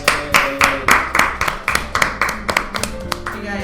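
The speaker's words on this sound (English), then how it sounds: "Natsuki finishes, and everyone applauds." Applause in the visual novel game Doki Doki Literature Club after a poem reading, a light, sparse patter of distinct claps in an uneven rhythm over a soft background tone.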